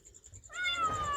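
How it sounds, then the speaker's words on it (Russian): Hungry cats meow on a fishing trip in the Philippines, with several close, loud meows overlapping after a half-second of quiet background. "Вечно голодные кошки."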